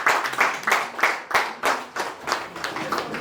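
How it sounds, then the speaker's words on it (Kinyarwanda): An audience at a New Year gathering claps in rhythmic bursts, loud pulsing rounds of applause repeating about every half second with little talk. "Umuhaye amashyi make twongere tumuhe amashyi"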